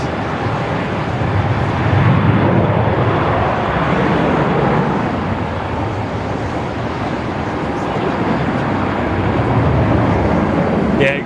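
A China Airlines heavy airliner arrives at Melbourne Airport, a broad, steady roar with gentle swells in loudness that runs unbroken for over ten seconds.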